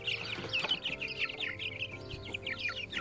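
Chickens and young chicks in a henhouse cluck and peep in busy overlapping bursts, close and fairly quiet, with no voices.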